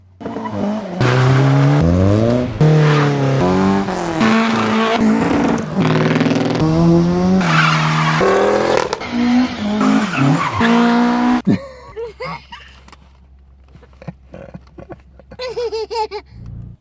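Cars skid and rev hard at a Ford car meet, with loud engine roars and squealing tyres sliding through turns close by. The noise drops sharply after about 11 seconds to quieter, scattered engine sounds further off.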